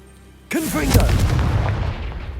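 The Confringo fire spell in Hogwarts Legacy goes off with a sudden loud blast, a booming explosion that rumbles and decays over about two seconds.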